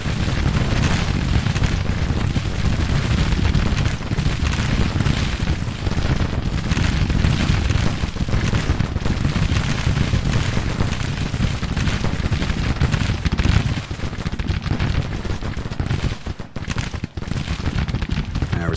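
A dense, continuous roar of gunfire and artillery booms from a Civil War video game battle, loud and sustained throughout with overlapping blasts and no clear breaks.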